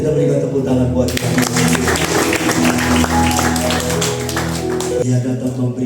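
A congregation at a church healing revival service claps together in a dense burst of applause lasting about four seconds, with voices audible around it.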